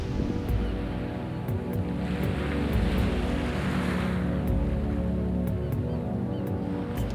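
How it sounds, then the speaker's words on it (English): Sea waves break on a beach in a continuous, loud, full roar of surf that holds steady throughout with no speech. "the noise of the waves is more in the background"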